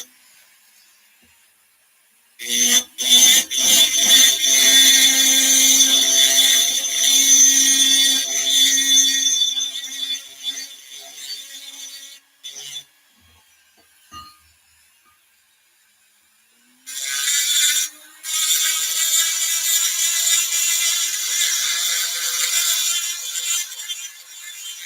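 A flexible shaft rotary tool carves a wooden axe with a loud, close, high buzzing whine in two long bursts. Short rattles and clicks fall between them, and a quiet gap separates the bursts.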